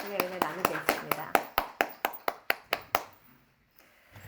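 Church congregation clapping together after worship, a steady run of about a dozen sharp, rhythmic hand claps that speed up slightly before stopping, with a voice over the first claps and brief quiet talk after.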